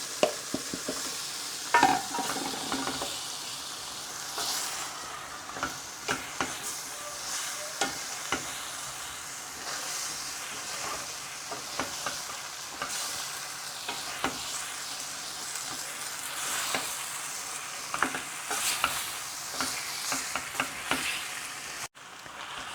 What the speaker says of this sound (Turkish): Şimdi de karnabaharlarımızı koyalım. Biraz da bunu kavuralım.